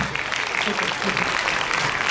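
An audience claps for a team at a school spelling bee, steady hall applause throughout with a bit of background voice mixed in.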